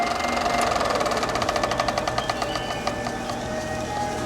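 A cinema film projector's motor runs steadily, a fast rhythmic mechanical clatter with a whirring hum, close and alone with no voices.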